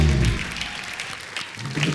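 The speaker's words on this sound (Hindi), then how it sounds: "तो एक बार हाउसफुल 4 की पूरी स्टार कास्ट के लिए जोरदार तालियां।" A live comedy show audience applauds the Housefull 4 star cast, a dense, steady burst of clapping that fills the whole moment with little talk.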